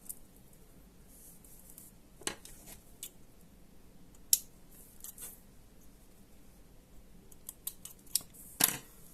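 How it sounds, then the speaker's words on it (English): Scissors snip sewing thread in a few quiet, sharp clicks scattered across a faint background, with soft rustling from handling between cuts. "I'm going to cut my thread"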